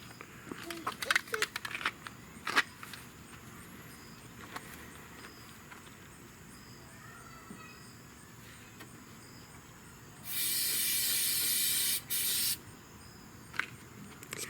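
A loud, steady hiss of aerosol undercoating spray under a Dodge Challenger with a wide body kit, lasting about two seconds, stopping briefly and then resuming, over quiet background noise with scattered clicks and knocks.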